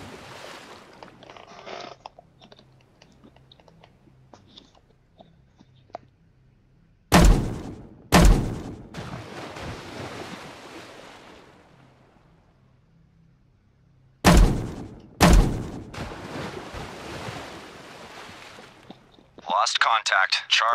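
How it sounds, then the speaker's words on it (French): Depth charges detonating in the naval game Destroyer The U-Boat Hunter, two pairs of heavy booming blasts with rumbling decay, separated by quiet stretches with faint radio voices. "Ready depth charges. Shallow pattern."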